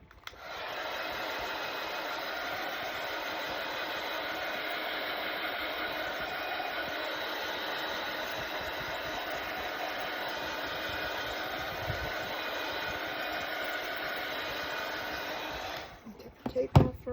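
A hair dryer dries paint on a patriotic-themed wooden breadboard craft, giving a steady, close, continuous whirring blow for about fifteen seconds before switching off near the end.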